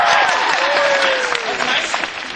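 A large audience at a Harvard speech breaks into brief, loud applause that tapers off, with a few voices rising above the clapping.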